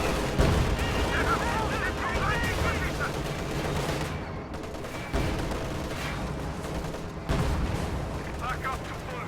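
Incoming fire rattles against tanks in a WWII tank video game, with rumbling blasts and dense battle noise running throughout and several sharp impacts, under an ongoing mix of other game sounds.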